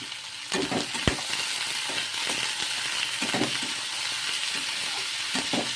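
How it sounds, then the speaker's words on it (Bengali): Cauliflower florets fry with a little turmeric and salt in a pan, a continuous close sizzle broken by repeated scraping strokes of a spatula and an occasional sharp knock against the pan. "দিয়ে নেড়ে চেড়ে ভাজা করে নেব।"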